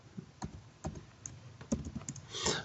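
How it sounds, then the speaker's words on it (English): Fingers typing on a computer keyboard in an irregular run of light, close key clicks with a brief faster burst at the end. "we're gonna type what we want to send"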